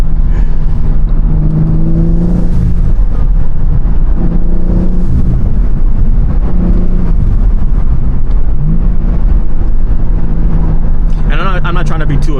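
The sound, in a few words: BMW M3 Competition engine and intake sound while driving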